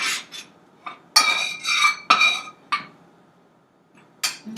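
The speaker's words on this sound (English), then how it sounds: "And mix that all together." A spoon mixes melted ingredients and maple syrup for nutty cocoa cookies in a glass bowl, making a handful of sharp, close clinks and scrapes in irregular bursts with short pauses between them, with no talking.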